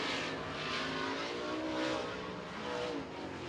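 Late model race car engine roaring during speedway qualifying, a loud sustained drone that swells and fades slightly as the car circles the track, with no talk.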